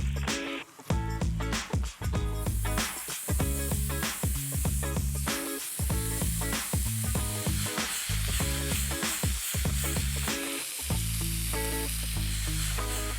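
Kangaroo meat frying in a hot pan for chilli bowls gives a dense, steady sizzle, with close stirring and scraping clatter running through it and no voices.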